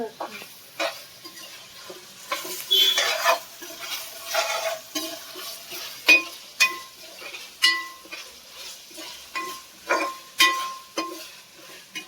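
Ingredients for coconut rice fry and get stirred in a pan, with a steady sizzle broken by repeated scraping strokes of a spoon at an uneven rhythm, close and moderately loud.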